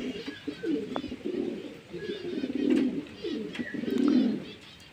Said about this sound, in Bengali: পায়রাকে বাইরে খেতে দিচ্ছি।